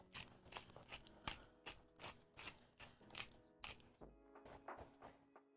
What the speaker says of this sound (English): We got a jam in the pepper grinder.